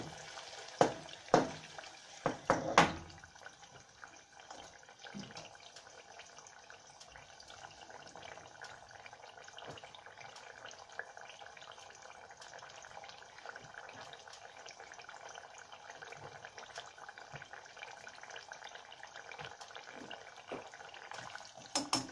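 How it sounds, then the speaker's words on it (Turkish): Potato fries sizzle in hot oil, a faint, steady bubbling hiss that continues for a long stretch after a few sharp clatters and splashes near the start. "Şimdi kızarsın bakalım nasıl olacak."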